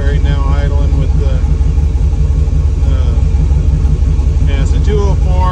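A Chevrolet LS 6.0L L76 V8 swapped into a 1971 Jeep Gladiator idles loudly and steadily, a deep constant rumble right up close, with someone talking over it.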